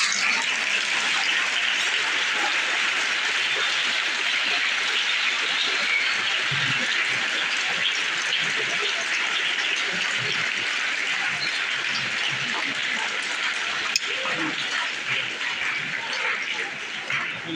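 Sustained applause from an audience at an annual school naat recitation competition welcomes the guest, a dense, steady wash of clapping that holds evenly for the whole stretch with no talk over it.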